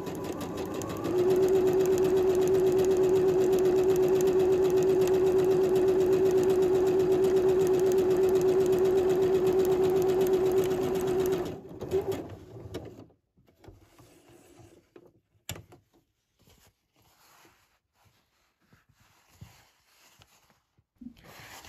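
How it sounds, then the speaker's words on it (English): Domestic sewing machine running a zigzag stitch along the raw edges of a fabric face mask, a steady loud whir for about ten seconds that then stops, leaving quiet handling noises. "so I've sewn one side of the raw edges with a zigzag stitch"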